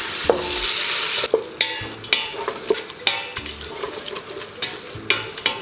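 Beef sizzling in olive oil in a pan while being stirred, steady frying hiss with repeated clinks and scrapes of the utensil, close and fairly loud.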